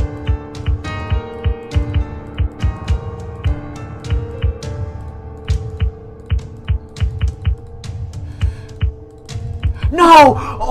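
Keyboard keys and mouse buttons click rapidly in an irregular, fast rhythm during an APM test, close and crisp, with a voice briefly breaking in near the end.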